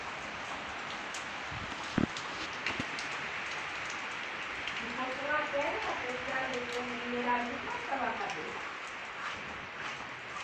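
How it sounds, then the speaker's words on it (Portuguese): Rain falls steadily outdoors in Paraíba, Brazil, a dense even patter throughout, with a sharp knock near two seconds and a voice calling faintly in the middle. "Chuva na Paraíba."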